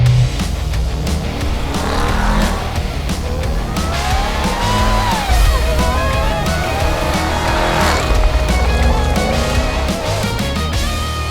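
A 2021 Ram TRX pickup truck, some 6,300 pounds, drifts with loud engine roar and long wavering tire squeals, the revs rising and falling continuously throughout, close by, with no talking.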